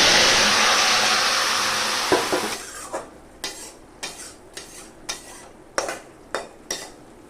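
Vegetables hit a pan of fried chopped garlic and chilli with a loud, dense sizzle that quickly fades. A run of rhythmic metal spoon scrapes and clacks follows as the mixture is stirred, close and distinct.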